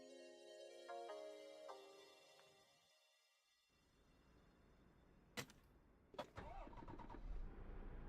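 A truck engine starting in Euro Truck Simulator 2, a couple of sharp cranking bursts followed by a rising, steady idle rumble after a quiet menu-like tone passage.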